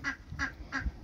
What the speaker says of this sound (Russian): Уток кормится.